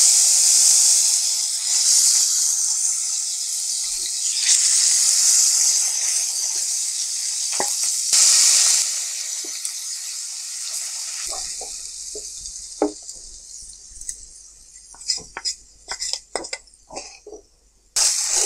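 Soft fish fries in hot oil with spices, a loud continuous hiss and sizzle that later thins out into scattered crackles and clattering knocks of a utensil against the pan.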